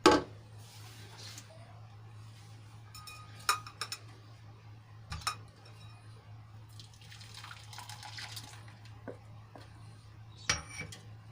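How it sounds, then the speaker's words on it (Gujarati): Blended watermelon juice poured through a kitchen strainer, a soft trickling flow with occasional metallic clinks and taps of utensils against the strainer and vessel, faint and close. "ગરણાની મદદથી આપણે એને ગાળી લઈશું।"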